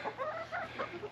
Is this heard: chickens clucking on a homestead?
yes